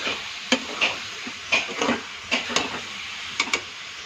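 Grated coconut stir-fried over a low gas flame for coconut laddu: a gentle frying hiss under a series of distinct scraping spatula strokes against the pan, close and unaccompanied by speech.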